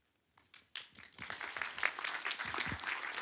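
Audience applause at a town meeting following a presentation, starting with a few scattered claps and swelling into steady, fairly faint clapping from a room full of people.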